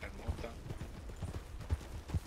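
A horse clip-clops across the ground in a role-play video game, its hooves striking in a steady rhythm of distinct thuds, fairly close, over a quiet background.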